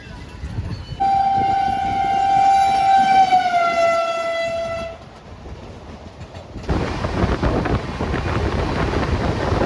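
Trains outside Shalimar railway station in Howrah: a loud, sustained train horn blares for about four seconds, followed by the rumble and clatter of a passing train with wind buffeting the microphone.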